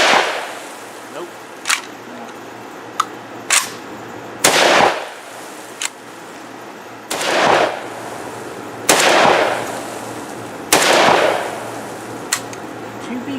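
Saiga-12 or VEPR-12 AK-style 12 gauge shotguns fire several loud, sharp shots at uneven intervals, each blast followed by a short ringing decay, with gaps between shots.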